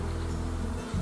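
A swarm of honey bees leaving their hive fills the air with a dense, steady buzzing drone, close and continuous through the brief moment.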